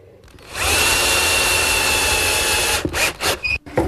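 Power drill driving screws into plywood pieces of a miter saw work station, one steady loud whirring run of about two seconds followed by a few short bursts, with no talking.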